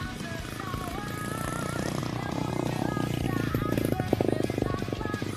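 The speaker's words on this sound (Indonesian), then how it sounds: "Aduh, ada motor lewat." A motorcycle passes by outside, its engine a rough mid-range drone that grows louder toward the end, heard beneath a voice talking.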